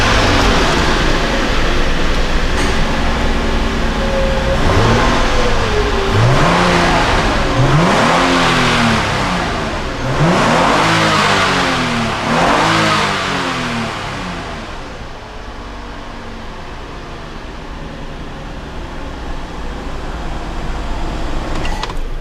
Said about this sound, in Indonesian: Sembari kita buka ini mesinnya, kita cek suara mesinnya guys.